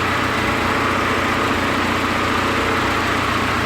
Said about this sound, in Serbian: Evo, pokrenut ćemo mašinu da vidite kako to izgleda.